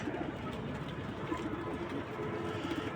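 Racing pigeons at a home loft, a female racer among them, give soft, continuous cooing over a steady background hum.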